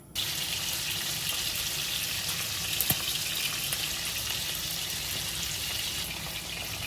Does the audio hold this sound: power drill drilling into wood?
no